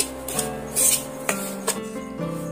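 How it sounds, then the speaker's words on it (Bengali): Semolina roasting in ghee for halwa is stirred in a metal pan, with clinks and scrapes of a spoon against the pan and only a faint sizzle beneath, close and intermittent. "এইভাবে করে সুজিটা আমি কিছুক্ষণ ধরে ভেজে নেব।"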